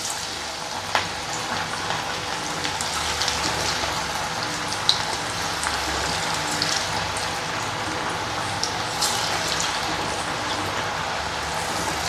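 Small pieces of onion pakoda batter fry in hot oil with a dense, continuous crackling sizzle, close and steady throughout with occasional sharper pops.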